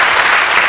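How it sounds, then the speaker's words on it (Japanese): Sustained applause from a studio audience celebrating a radio show's one-year anniversary, a dense steady clatter of many hands that fills the whole short stretch with no pauses. "ありがとう、拍手が。"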